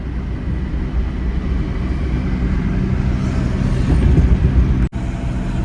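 A car driven fast, heard from inside as a steady, loud road-and-engine rumble that swells slightly toward the end and briefly cuts out near the close.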